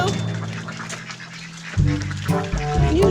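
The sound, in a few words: ducks quacking while being herded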